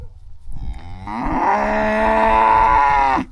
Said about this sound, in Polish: Krowy nie chcą być już na dworze i dlatego są takie głośne podobno